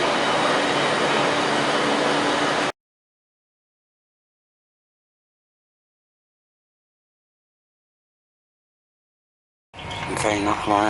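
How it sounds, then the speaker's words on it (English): Steady broadband rumble inside an Avanti intercity train to Edinburgh in motion, loud and continuous, cutting out abruptly, then returning later with talking over it. "Okay, a nice comfortable train here."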